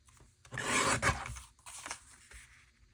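Material being trimmed to fit a neon flip frame, a rough rasping cut that swells loudly for about a second, then several softer scraping strokes up close, with no talk.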